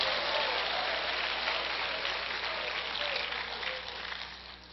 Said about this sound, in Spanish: A ver, aplaude.